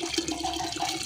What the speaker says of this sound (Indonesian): yang ada sedikit saya tuangkan semua molase ini.